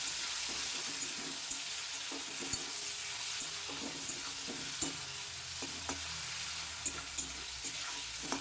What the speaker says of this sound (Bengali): এবার এই তেলের মধ্যে আমি যেই চিংড়ি মাছটা ম্যারিনেট করার জন্য 10 মিনিটের জন্য রেখে দিয়েছিলাম, সেটা আমি এর মধ্যে দিয়ে দিচ্ছি।